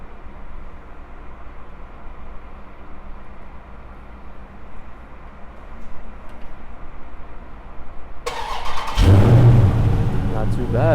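A Dodge Charger's engine fires up by remote start, a low idle hum giving way to a sudden loud crank and rising rev near the end while a person talks nearby.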